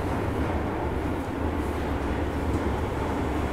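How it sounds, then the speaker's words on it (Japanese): A Keisei Access Express train pulls into a station with a loud, continuous rumble of wheels and motors that fills the clip without a break. "京成の列車がやってきました。"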